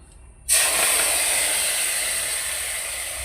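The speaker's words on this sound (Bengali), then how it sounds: "মাছের তেলটা দিয়ে দেবো এখানে।" Fish oil hits a hot pan for an eggplant and potato fish-oil curry, starting a sudden loud sizzle that holds steady and fades only slightly. It is close, with no talking.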